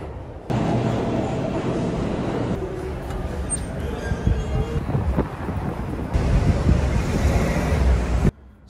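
A New York subway train rumbles and roars steadily at close range, a loud continuous rush of rolling noise and wind-like hiss with no speech.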